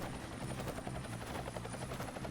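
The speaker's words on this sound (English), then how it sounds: "Helicopter time." A helicopter in the video game Ty the Tasmanian Tiger 2: Bush Rescue, its rotor chopping in a steady rapid thump under a constant whine, heard alone at a moderate level.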